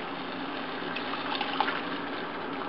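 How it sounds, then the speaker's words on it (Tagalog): Water is poured into a pan of beef broccoli with oyster sauce, giving a soft, steady splashing fill with a few small gurgles, close and quiet. "Tapos, dadagdagan natin siya ng water."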